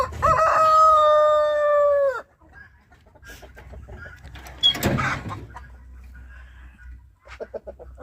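A marble-coloured Brahma rooster crows once, loud and close, with a long drawn-out call, followed by quieter clucking and farmyard rustling and a few shorter calls at the end.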